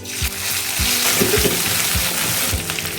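Panch phoron, bay leaves, crushed ginger and green chili hit hot oil for bhog khichdi and sabzi, giving a loud, steady sizzle and crackle with a few knocks of the spoon against the pan.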